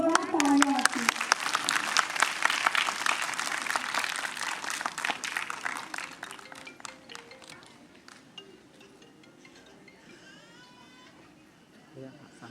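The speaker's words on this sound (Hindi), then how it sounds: "जोरदार तालियां आपकी।" An audience at a youth theatre workshop closing and certificate ceremony claps loudly and densely for several seconds. The applause thins out and fades, leaving scattered claps, faint chatter and a brief trailing voice.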